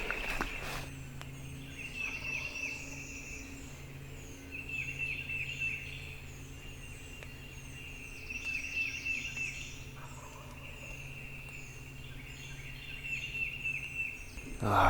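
Wild turkey gobbling far down a ridge during spring turkey season, several distant rattling gobble bursts a few seconds apart over a faint outdoor background hum, with no talking.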